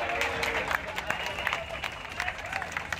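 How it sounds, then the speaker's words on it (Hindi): Onlookers clap after a man is pulled alive from collapsed rubble, an outdoor scattering of uneven claps mixed with crowd murmur and background noise, with a voice faintly heard among them. "उसकी जान बचने पर लोगों ने तालियां बजाकर खुशी भी जताई।"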